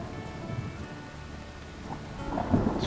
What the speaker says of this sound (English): it started raining outside